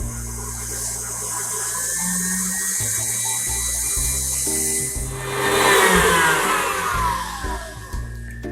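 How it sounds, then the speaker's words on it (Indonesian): An electric mixer whips cream for a chocolate caramel tart, its motor whine holding steady at low speed and then rising in pitch and loudness as it is turned up, close and continuous without speech. "sekarang kita akan kocok dengan kecepatan rendah dulu. Kita naikkan perlahan, kita kocok hingga mengembang."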